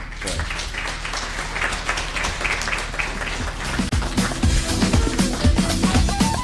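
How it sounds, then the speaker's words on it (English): An audience at a youth learner-licence launch event applauds after the Premier's speech, a sustained round of clapping with background music building partway through. "The round of applause would be energetic"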